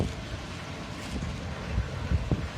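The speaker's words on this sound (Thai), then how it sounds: "ลมแรงนะครับลบบุรี" Strong wind blows outdoors at a hydroponic salad vegetable garden, rumbling against the microphone in steady gusts with a few low thumps.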